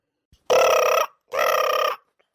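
A telephone rings twice, each ring a loud, close, buzzing tone about half a second long, separated by a short gap, with near silence around them.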